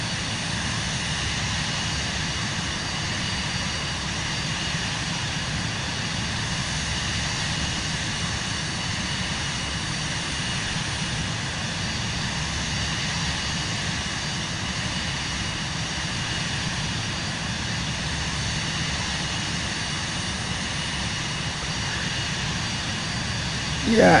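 Airplane engine drones steadily in Microsoft Flight Simulator 2024 on PS5 as the aircraft climbs, a constant broadband roar holding level throughout with no clear voices over it.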